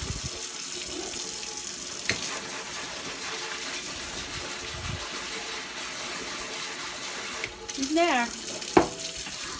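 Tap water runs quietly into a kitchen sink as a strainer is rinsed, a soft steady stream with a few knocks and a brief clatter near the end, a short spoken phrase heard.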